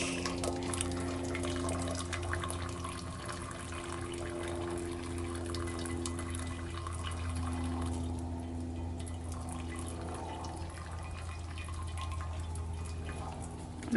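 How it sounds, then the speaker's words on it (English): A hibiscus-dyed shirt lifted out of a pot lets water drip and trickle back in, a steady close wet patter over a low continuous hum, with no talking. "taking the shirt out of the pot."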